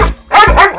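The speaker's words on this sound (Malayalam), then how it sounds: "ശിവൻകുട്ടി, ഞാനാണ് പറയുന്നത്, ഈ പട്ടിക്ക് ബിസ്ക്കറ്റ് കൊടുക്കരുത്." A dog barks loudly and close by, two sharp barks in quick succession.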